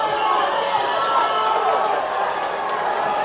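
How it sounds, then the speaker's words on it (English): A crowd at a boys sectional swimming race cheers and roars loudly in an echoing pool hall, a dense continuous wash of voices with an announcer talking over it. "the crowd is going absolutely crazy as the third swimmers are going to touch nearly side by side"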